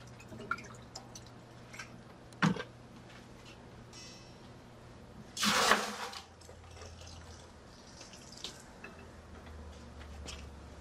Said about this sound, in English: I'm going to have to add a little water to get it to move for me.